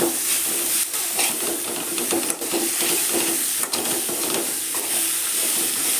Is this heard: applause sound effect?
no